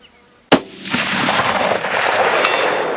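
A single loud rifle shot cracks sharply at an outdoor shooting range after a quiet moment, followed by a long rolling echo and ambient rumble that lingers to the end, with a faint second tap near the close.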